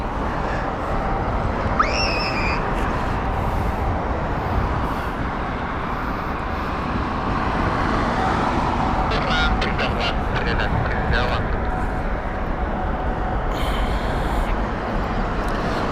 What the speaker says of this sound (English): This is the Airbus A321neo from Beirut.